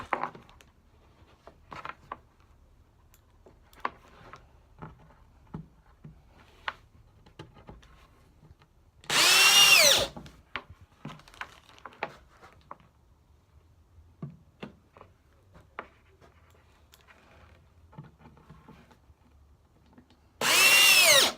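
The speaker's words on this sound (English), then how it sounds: "then I just drill my screws" A power drill with a square Robertson bit drives screws into bookshelf wood in two loud, steady whirring bursts about ten seconds apart, separated by quiet clicks and handling taps.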